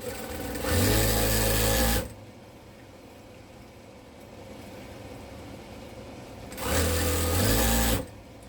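A sewing machine stitches quilt strips along matched seams in two loud, even bursts of about a second and a half each, separated by a quiet pause, with no talking.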